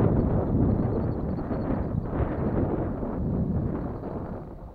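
Steady wind buffets the microphone at a model airplane flying field, a dense low rumble that stays loud and even throughout with no other clear sound on top.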